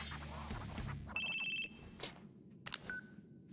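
A flip phone rings in a video game, with two short electronic ring tones, the first louder and the second fainter, amid game sound effects and thuds.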